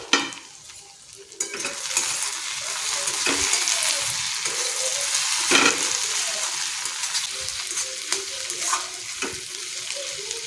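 Kathiyawadi onion curry sizzles steadily as it is stirred in a pan over low heat, with a close, continuous fry and occasional scrapes and knocks of the spoon against the metal.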